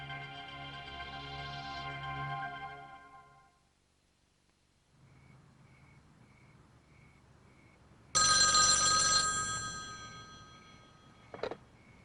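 An outgoing call in a 1988 French thriller: a dial tone gives way to a repeating ring tone, then a loud, old-style telephone bell rings close by, ending in a short clatter.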